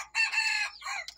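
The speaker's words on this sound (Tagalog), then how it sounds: "Ito yung rooster." A rooster, one of a flock of pure native heritage chickens, crows once up close: a short, bright, strained cock-a-doodle-doo that rises, holds, then trails off in a final clipped note.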